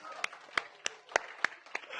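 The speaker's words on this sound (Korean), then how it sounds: "이럴 때 박수 한 번 또 쳐줘야 되죠" A church congregation clapping together, a series of evenly spaced, fairly faint claps at a steady rhythm, heard from a slight distance in a quiet room.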